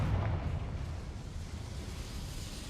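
A Confringo blasting spell from the Hogwarts Legacy video game explodes in a deep, rumbling boom that decays over a couple of seconds into a low, roaring tail with no talk.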